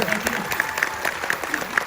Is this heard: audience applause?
yes